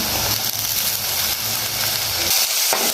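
Onion, ginger and garlic sautéing in a pan for a jackfruit (polos) curry, giving a steady, close sizzle with soft stirring noises and no voices.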